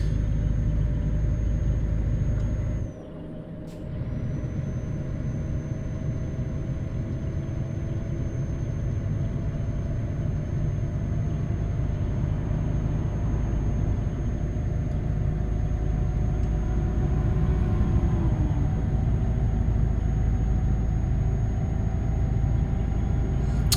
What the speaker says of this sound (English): The game's called Euro Truck Simulator 2, Freddy.